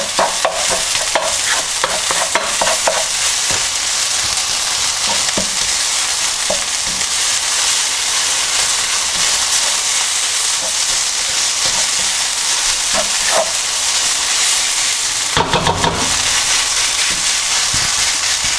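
Egg fried rice is tossed and stirred in a hot wok, with a dense, loud sizzle running throughout and sharp clacks and scrapes of the utensil against the metal at irregular intervals.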